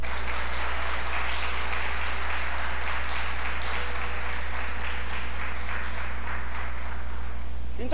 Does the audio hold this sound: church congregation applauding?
yes